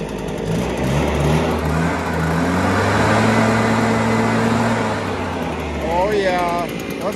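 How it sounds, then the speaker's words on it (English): Husqvarna backpack leaf blower running at a steady throttle-locked rev during gutter cleaning, a sustained loud motor drone that rises slightly mid-clip, with someone talking over it. "Carrying the backpack with the throttle lock on, so you can set it to rev and blow"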